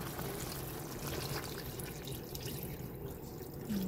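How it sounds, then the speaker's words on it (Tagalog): A continuous stream of water pours steadily into a pot, a soft even splashing rush that holds for several seconds without pause. "maglagay na ako ng sabaw, tubig"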